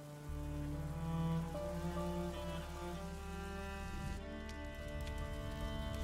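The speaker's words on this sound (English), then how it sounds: "would you mind if we get out of the rain, please?" Rain falls steadily in the video game A Plague Tale: Innocence, a soft continuous patter beneath sustained tonal music, with no voices.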